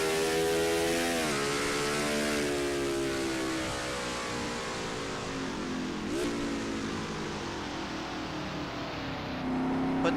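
Oreo Chevrolet stock car in a racing video game, lapping the Mid Ohio road course, engine revving up through the gears with sharp shifts, then dropping to a lower gear before climbing again, loud and continuous.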